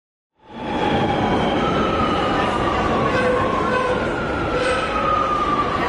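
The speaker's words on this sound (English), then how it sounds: "we're going to take a short subway ride" Steady loud rumble of a Barcelona subway train in motion, with wheels squealing and whining tones rising over the constant roar.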